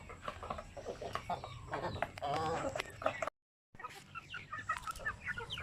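Native chickens cluck and cackle in a ranging area, several birds calling close by in irregular bursts, with brief quiet human murmuring mixed in.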